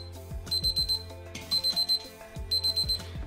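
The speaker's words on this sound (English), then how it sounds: "We're now going to demonstrate the TP16 and its alarm." A TP16 kitchen thermometer's temperature alarm beeps in quick bursts of four high-pitched tones, repeating three times, moderately loud over a faint electronic hum.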